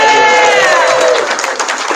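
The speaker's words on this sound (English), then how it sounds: "Give yourselves a round of applause" An audience at a live music night in the Terminus Hotel, Shepparton, claps and cheers, a dense, steady wash of crowd noise with a few whoops rising over it, loud and close throughout.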